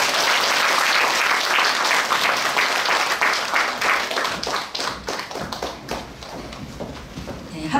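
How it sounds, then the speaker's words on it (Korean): Applause from a concert audience in response to a clarinet club's summer performance. It starts full and loud, then thins into scattered individual claps that fade toward the end. "박수를 부탁드리겠습니다"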